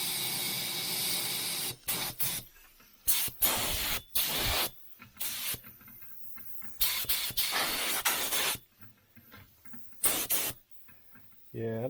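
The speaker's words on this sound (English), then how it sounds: "I'm spraying out at about 30 psi" A budget HVLP paint sprayer blasts at about 30 psi in repeated loud bursts of broad hissing spray, each lasting a second or so, separated by short quiet gaps and occasional faint handling noises.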